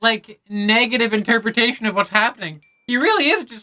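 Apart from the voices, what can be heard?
No everyday noise stands out behind the speech.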